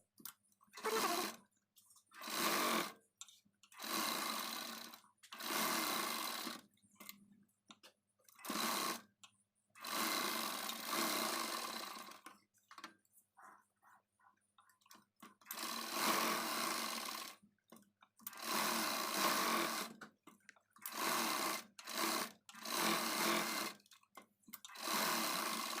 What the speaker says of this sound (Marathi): त्यासाठी अशा पद्धतीने स्टिच करतानाच दोरी लावून घ्यायची